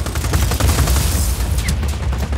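Gunfire in the video game Just Cause 4: a loud, dense stretch of rapid shots and heavy low booms that runs without a break.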